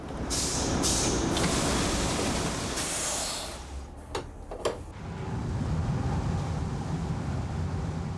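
The old 1945 engines of the salvage ship Salvage Chief roar in a loud, steady broadband drone with hissing bursts, briefly dipping midway with a few sharp clanks before the roar resumes.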